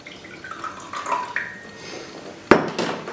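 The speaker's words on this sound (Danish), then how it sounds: "Så tager jeg lige og hælder lidt vand i min kop." Water poured into a cup for a table flower arrangement, a brief trickle and light splash followed by a sharp clink of ceramic, close and fairly quiet.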